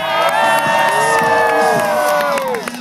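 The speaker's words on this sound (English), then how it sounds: "I want to hear a great big loud crowd" A large state fair crowd cheers and screams loudly before a BMX stunt show, a sustained wall of voices with high children's shrieks rising and falling over about three seconds.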